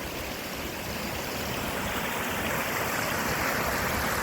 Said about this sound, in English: I love the sound of water over a fall.